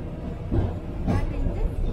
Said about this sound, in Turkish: Mini tramvay.